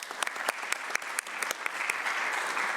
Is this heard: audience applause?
yes